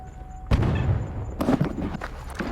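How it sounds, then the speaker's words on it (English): Distant gunfire in the Stalker Anomaly video game, with irregular muffled thumps and crackling bursts over a steady ambient hum, one stronger burst near the start and further shots later. "I hear a lot of gunfire."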